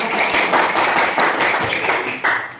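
A classroom of students claps together in bursts, close and fairly loud, with the rhythm of individual hand claps audible in the dense applause.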